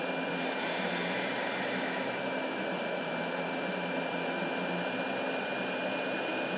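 A steady, hissing crackle from vaping on an Ijoy Limitless XL tank at 150 watts with an 80-20 e-liquid blend, a continuous close-up sizzle holding level for several seconds without talk.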